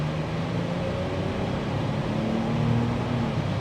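A turbocharged BMW X7 xDrive40i engine in comfort mode accelerates at about half throttle: a steady, close cabin hum with faint engine tones rising gently and no gear change.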